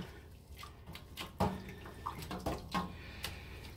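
A wool yarn skein is lifted and flipped over in a pot of dye water during kettle dyeing, giving a few soft, close splashes and trickling drips at a quiet level.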